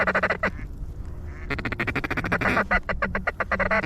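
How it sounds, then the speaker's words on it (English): Ducks quacking loudly and close by during a duck hunt in a light snowstorm, rapid overlapping calls in choppy bursts with a brief lull before a dense run of quacks. "We got a bunch of ducks working here."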